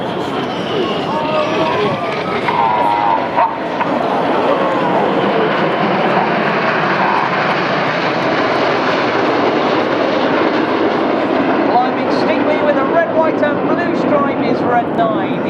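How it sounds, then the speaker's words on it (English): Red Arrows jet roaring past at the Sunderland Airshow 2014, a loud sustained engine rush that swells and slowly fades, with a faint crowd murmur beneath. "if you look to your right, you'll see a lone jet"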